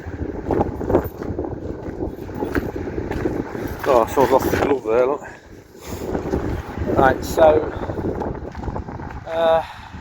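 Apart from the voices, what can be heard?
wind blowing into microphone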